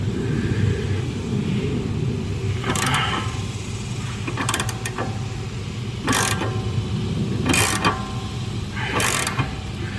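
A wheel stud nut is turned by hand on a Mustang in a garage, giving a few short metallic clicking and ratcheting bursts spaced over steady background rumble.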